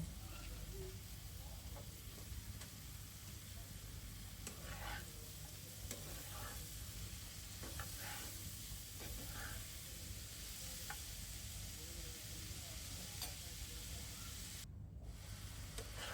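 Pumpkin bhaji frying and being stirred in a pan, a steady low sizzle throughout with scattered faint scrapes of stirring, close and even, with no talk.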